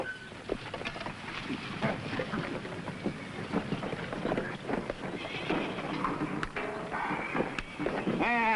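Horses neighing and hooves clip-clopping around a barn in a 1950s Western television episode, busy and mid-distance, with people talking and a whinny near the end.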